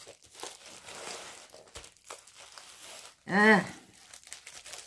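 A tightly wrapped parcel being unwrapped, its packaging crinkling and rustling close by, with one short voiced exclamation breaking in near the end.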